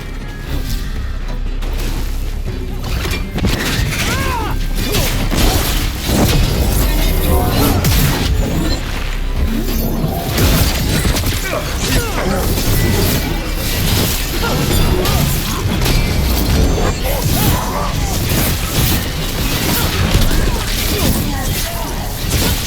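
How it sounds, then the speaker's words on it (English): Gatlock cannons fire in a Dragon Age: The Veilguard battle, with repeated loud booms, crashes and impacts, dense and continuous, as voices shout over the combat. "Watch yourself. They have Gatlock cannons."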